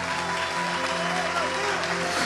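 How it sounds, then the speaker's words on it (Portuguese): A church congregation applauds during a sermon, a steady dense wash of clapping at moderate level that runs throughout, with a voice speaking over it. "Pode aplaudir o Senhor"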